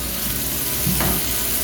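Thick hand-cut hamburger patties frying in a little olive oil and rendered bacon fat, a loud steady sizzle close up with a brief stirring scrape partway through, nobody speaking.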